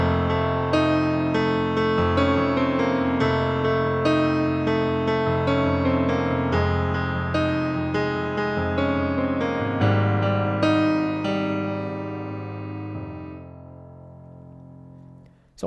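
Piano playing the guitar solo part of a song, with left-hand F octaves under a busy right-hand melody; sustained, ringing notes played continuously and fairly loud, fading out at the end.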